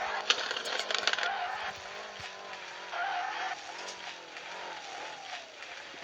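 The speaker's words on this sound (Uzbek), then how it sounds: "Mashina o'ynab drift qilib beraymi?" A car drifting in a driving video game, its tyres squealing in long wavering tones over a steady engine drone, fairly quiet and heard alone with a few faint clicks.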